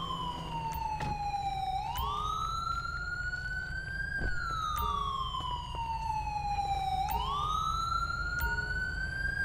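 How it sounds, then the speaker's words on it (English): A police car siren in the video game GTA with the LSPDFR mod sweeps slowly up and down in a continuous wail, loud and close over a low engine rumble, with no voices. "Get this siren turned off really quick."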